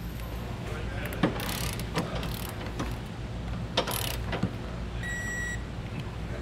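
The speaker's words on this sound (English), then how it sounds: "we'll just make sure these are all torqued properly." A torque wrench ratchets in short bursts while tightening trailer hitch bolts on a 2020 Volkswagen Passat, with sharp clicks and clanks under a steady background hum, followed by a brief electronic beep.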